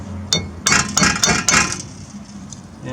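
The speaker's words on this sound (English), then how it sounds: "And I've got my rubber mallet, my safety hammer." Rubber mallet blows on a homemade boat motor part, about five sharp knocks with a metallic clink spaced roughly evenly in the first half, then quieter handling noise; no talking.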